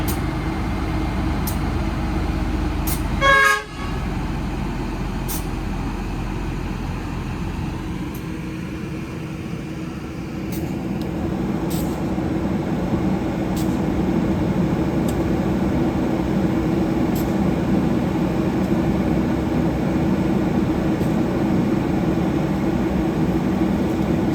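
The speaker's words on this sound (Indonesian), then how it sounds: "Dan ini dia lokomotifnya guys, BP303. Persiapan langsir pindah posisi." BB 303 diesel locomotive shunting at Kayu Tanam station in Padang, giving a steady, continuous low engine drone that holds throughout, with a brief sharp knock near the start.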